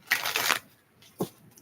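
Tarot cards are shuffled by hand in two quick riffling bursts, a longer papery flutter followed by a brief soft tap, close and clear against quiet room tone.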